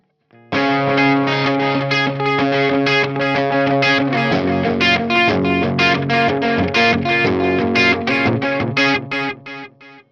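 An electric guitar runs through a free amp sim with delay, playing a steady run of picked notes and chords that ring on with echoing repeats, loud and continuous for about nine seconds before stopping.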